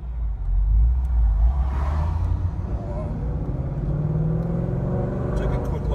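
A ProCharged 2016 Ford Mustang GT drives on the road, its engine rumbling low and steady from inside the car, with a voice speaking over the noise.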